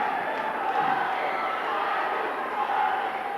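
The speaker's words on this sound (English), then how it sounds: "you can hear that crowd again" A large, excited crowd at a boys' swimming conference championship fills an indoor natatorium with a continuous loud roar of cheering and shouting, steady from start to finish.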